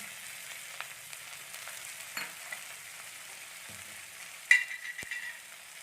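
Chopped vegetable stalks, potato and jackfruit seeds fry quietly in a pan for a small-fish chorchori, a soft continuous sizzle broken by faint stirring scrapes and one sharper clink, with no voices.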